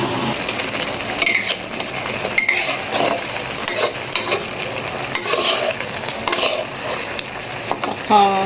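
Pumpkin stir-fries with egg and basil in a pan, a steady sizzle under repeated scraping and clinking of a spatula stirring against the metal, close and continuous, ending with a brief ratcheting scrape.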